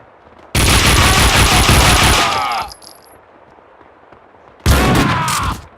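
Loud bursts of automatic gunfire from the Max Payne 2 video game, a sustained volley of about two seconds, then a pause and a second burst, with a faint shouted voice between them.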